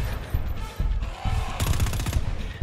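Gunfire in GTFO: bursts of rapid shots, sparse and muffled at first, then a dense, louder volley in the second half, close by.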